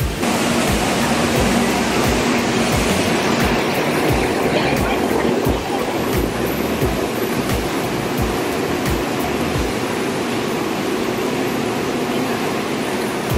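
A train rolls into a station platform with a loud, steady broadband rumble and hiss that continues throughout, a slight drop in level partway as it slows.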